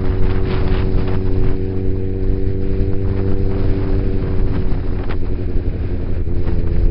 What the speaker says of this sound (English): All this fucking wind is blowing me everywhere.